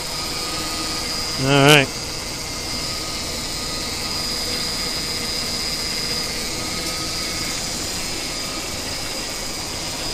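The 2002 Ford Explorer engine idles steadily after its timing chain repair, a constant, loud mechanical drone running under a brief spoken word near the start.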